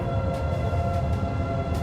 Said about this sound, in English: It's a tornado siren.